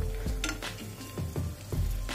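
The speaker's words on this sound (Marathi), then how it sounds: "आता याला आपल्याला गोल्डन ब्राऊन होईपर्यंत तळायचंय." Khari pastry frying in oil, a steady close sizzle with soft bubbling and a few scraping stirs of a fork turning the layered pieces, no voices.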